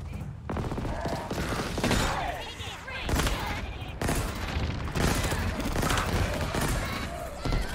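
Halo Infinite gunfire in the Foundation mission: repeated loud bursts of automatic weapon fire and blasts in close succession, dense and continuous amid game effects and voices.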